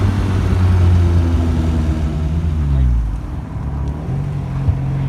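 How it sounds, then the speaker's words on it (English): A cold 1956 Austin Healey BN2 roadster pulls away in first gear, its engine note rising and then easing off as it accelerates, loud and close, followed by a quieter rumble. "This car is stone cold, and listen to how it accelerates."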